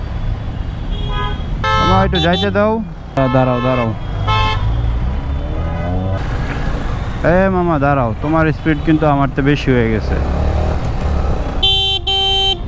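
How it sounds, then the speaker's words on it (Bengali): Amid busy road traffic in Bangladesh, a private car fitted with an aftermarket exhaust roars loudly and steadily, with horn toots near the end, while a man on a motorbike talks over it. "কোন প্রাইভেট কারে যেন এক্সস্ট লাগানো"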